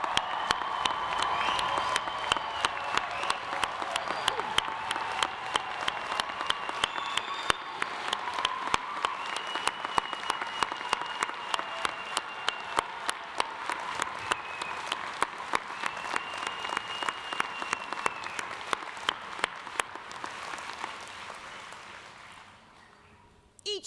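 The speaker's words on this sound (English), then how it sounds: "Will everyone join me in giving these graduates one more round of applause?" Graduates at a commencement ceremony in an arena receive a long, steady round of applause from a large crowd, dense clapping with scattered cheers that carries on for over twenty seconds before tapering off.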